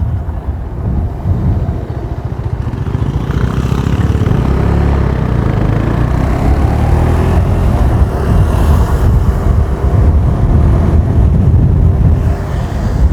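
A KTM Duke 390 BS6 motorcycle rides through evening traffic, its engine a loud, steady low drone with a few shifts in pitch, rumbling continuously and close with no talking.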